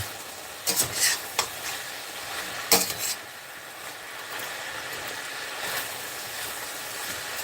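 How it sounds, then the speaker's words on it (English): Mushrooms frying in a pan give a faint, steady sizzle under a few brief sharper clatters, with no voices. "You hear that sizzle, that means we're doing something."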